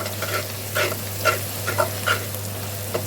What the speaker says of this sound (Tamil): கொஞ்சமாக புதினா, புதினா சேர்த்து நல்லா வதக்கிடலாம்